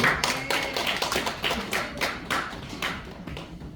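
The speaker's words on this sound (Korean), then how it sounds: "야, 박수 이렇게 박수" Clapping from a small audience at a volunteer magic show in an adult day care center, a handful of distinct, fairly close hand claps in an uneven rhythm.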